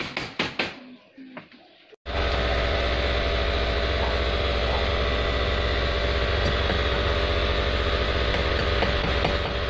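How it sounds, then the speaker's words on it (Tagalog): A generator used by workers installing an electric meter starts abruptly after a few faint knocks and then runs continuously, a loud, steady engine drone with a humming tone that holds for the rest of the stretch. "Generator po kasi yun gamit ng mga nagkakabit ng metro."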